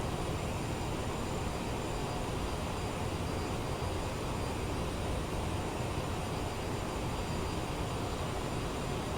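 Steady, continuous broadband jet-engine roar of a CRJ-700 with throttles pulled back toward idle during descent in a flight simulator, an even drone that holds at a constant level throughout with no talk.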